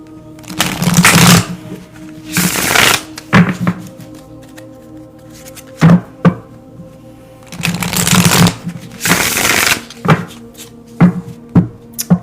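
Tarot cards shuffled by hand in repeated bursts of riffling and shuffling, separated by soft taps and knocks of the deck, close and fairly loud with no talking.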